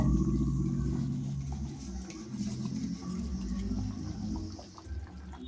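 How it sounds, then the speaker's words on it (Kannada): Spiced masala for aloo rice bath bubbles in a pot as washed rice is stirred in, a steady watery burble and patter with soft stirring scrapes, fairly quiet and continuous. "ಮಸಾಲೆ ತುಂಬ ಚೆನ್ನಾಗಿ ಕುದೀತಾ ಇದೆ ಇವಾಗ ನಾವಿಲ್ಲಿ ತೊಳೆದಿಟ್ಕೊಂಡಿರುವಂತಹ ಅಕ್ಕಿಯನ್ನು ಸೇರಿಸಿ ಇದನ್ನು ಮಿಕ್ಸ್ ಮಾಡ್ಕೋಬೇಕಾಗುತ್ತೆ"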